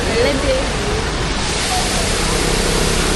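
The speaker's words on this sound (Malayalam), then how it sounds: "അടിപൊളി വാട്ടർഫോൾസ് അല്ലേ കിടിലം വാട്ടർഫോൾസ് ആണ് കണ്ടോ" A roadside waterfall in Kanthalloor, Kerala roars loudly and close as a steady, dense rush of falling water, with voices faintly under it.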